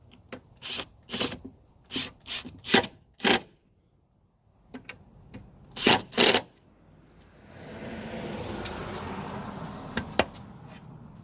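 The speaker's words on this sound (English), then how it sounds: "Now all we have to do is just put the screws back." Screws being driven back into a tail light assembly on an older Range Rover Sport, a run of short close ratcheting, scraping bursts, then a steadier rubbing hiss at the end.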